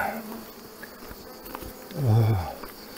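Bees buzzing around beehives outdoors, a steady hum of many insects with a louder buzz swelling as one passes close by.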